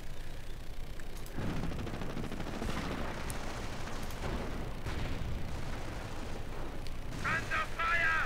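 Dense rifle and MG42 machine gun fire rattle through a World War II strategy game battle with Fallschirmjäger troops, sustained and busy throughout, with a brighter crackling burst near the end.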